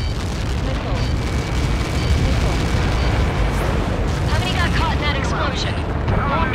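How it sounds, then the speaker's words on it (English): A missile impact explosion in the Ace Combat 7 flight video game, a loud sustained rumbling blast with crackling debris filling the whole clip, joined by game radio chatter near the end. "How many got caught in that explosion?"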